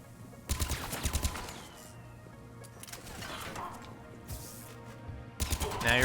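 Gunfire in the Mass Effect video game, bursts of rapid shots with quieter stretches between them, fairly distant and low in level under game ambience.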